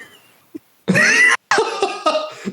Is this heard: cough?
yes